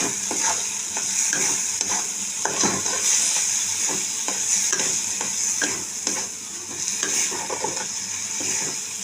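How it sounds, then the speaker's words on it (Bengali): Fish oil sacs frying in oil in a pan, a steady close sizzle with repeated spatula stirs and scrapes throughout, loud and continuous without any voices. "তেলটা ভাজা হয়ে এসছে, তেল ছেড়েছে"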